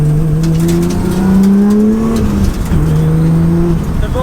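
A loud tuned 700 bhp Nissan Skyline R33 engine revs and accelerates steadily on a damp road, its rising pitch sustained for several seconds with a brief dip midway as it shifts gear.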